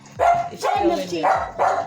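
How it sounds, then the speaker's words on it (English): A pet dog barks in sharp bursts, about four loud barks close by, in a home kitchen, mixed with a person talking over them. "Excuse my dog, y'all."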